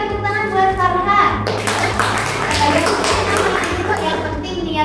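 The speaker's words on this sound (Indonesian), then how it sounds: "Oke, berikan tepuk tangan buat Farhan." A group of students applauding a classmate during a school counseling session, several seconds of dense, close clapping that follows a spoken prompt and continues steadily, with a faint low hum underneath.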